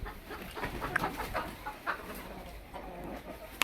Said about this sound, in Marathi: आपण बघूत आता आपल्या कोंबड्याच्या घरामध्ये काय विषय आहे.